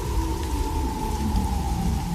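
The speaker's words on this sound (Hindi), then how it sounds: "तेज बारिश और गड़गड़ाहट के बीच" Heavy rain falls steadily in a story scene, a dense continuous wash of drops with a low rumbling bed beneath; no distinct thunderclap stands out, and no one speaks.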